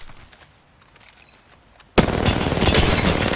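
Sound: gunfire in the video game Apex Legends

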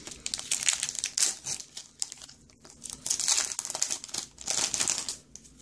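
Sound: opening a Pokemon XY Flashfire booster pack wrapper

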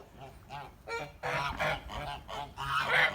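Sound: goose honking

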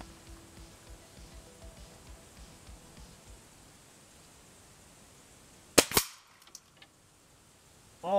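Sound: Crosman F4 air rifle firing Gamo Rocket .177 pellet

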